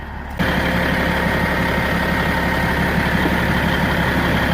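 Trucks idle steadily in winter cold, among them a lowboy truck, a loud, continuous low diesel rumble with a constant drone that holds without pause after a brief quieter moment at the start.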